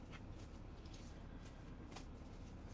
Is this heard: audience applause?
no